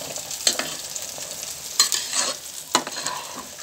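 Mustard seeds, cumin, dried chillies, onion and tomato sizzle and fry in a pan, a soft steady crackle broken by a few louder stirring scrapes, heard alone without talking.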